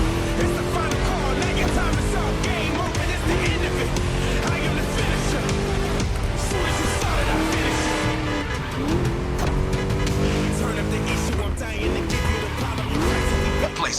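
Throaty V8 engine in The Crew Motorfest street racing, revving and shifting loudly and continuously through a lap, pitch rising and dropping with each gear, with tire squeal and music layered under it.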